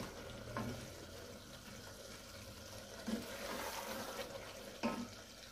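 Keema, minced meat, fries in oil in a pan with a soft steady sizzle, broken by a few louder scraping stirs.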